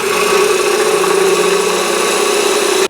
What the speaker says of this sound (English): I'm just cutting the wood with that corner of the tip.